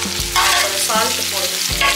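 Tomatoes sizzling in a hot kadai, with a spoon scraping through them in three distinct stirring strokes over a continuous frying hiss.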